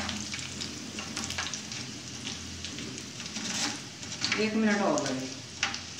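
Moong dal fries in hot oil with a steady, dense sizzle and crackle, close and fairly loud, while someone talks over it and a utensil stirs briefly near the end.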